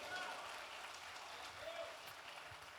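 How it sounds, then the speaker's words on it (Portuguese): Faint, distant applause from a church congregation cheering for Jesus, a diffuse steady patter of many hands with no clear individual claps. "Agora dá um brado de júbilo e aplaude a Jesus nesse lugar"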